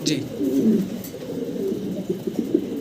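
Fancy pigeons, including a black shoki pair, coo in low throaty bursts close by, with a voice talking over them.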